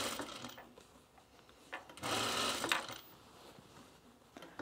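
A sewing machine stitching bomber jacket lining, quiet at first with light handling noises, then a short fast whirring run of stitches for about a second, followed by soft fabric rustling.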